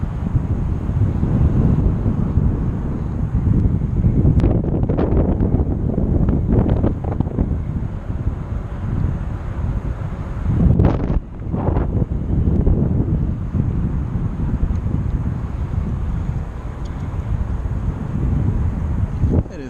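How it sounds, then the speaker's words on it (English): Strong wind buffets the microphone at a creek during a fishing outing, a steady roaring rumble across the whole stretch with a few brief knocks and handling bumps, no clear talk. "It's so windy today."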